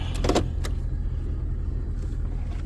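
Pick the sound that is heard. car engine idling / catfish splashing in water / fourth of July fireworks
car engine idling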